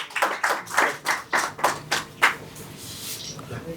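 Audience clapping at a ward development seminar in Mumbai: a series of distinct, rhythmic group claps, around eight sharp bursts close together, then fading into scattered patter and quiet room tone.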